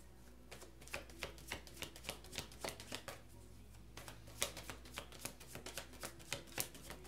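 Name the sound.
tarot cards being shuffled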